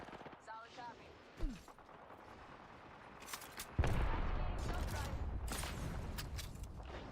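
Gunfire hits a player in the Apex Legends video game: sharp bursts and rattling shots, fairly faint, mixed with other game effects and a brief voice.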